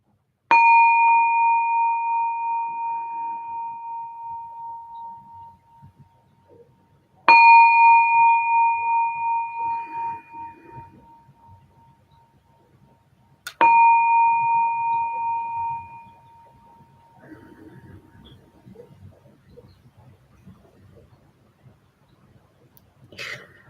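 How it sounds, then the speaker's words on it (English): A meditation bell is struck three times at even intervals, each ring loud and clear with a long, slowly fading resonance, followed by quiet. "I'm going to ring the bell 3 times and then we'll start."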